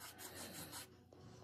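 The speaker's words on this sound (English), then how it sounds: "then you're going to scrape it like that to make it" A homemade play button is scraped to make it shiny, giving a close, faint, rasping rub that runs steadily, then turns lighter and more uneven.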